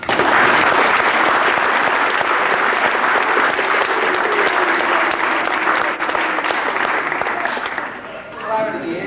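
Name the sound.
audience clapping for a football player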